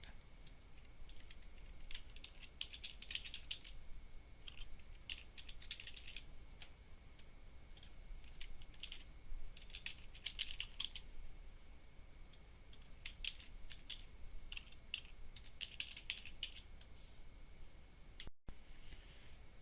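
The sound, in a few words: typing on a computer keyboard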